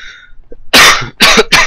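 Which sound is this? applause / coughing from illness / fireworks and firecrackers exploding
coughing from illness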